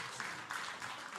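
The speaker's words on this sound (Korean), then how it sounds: "박수." A church congregation claps together in a brief burst of applause, several uneven waves of hand claps, fairly faint and slightly distant, without speech.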